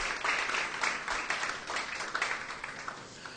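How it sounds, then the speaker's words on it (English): An audience at the 2011 Irish Music Awards applauds, a fairly soft, dense patter of many hands clapping that holds steady through the short stretch without voices. "Would you give a nice round of applause for that"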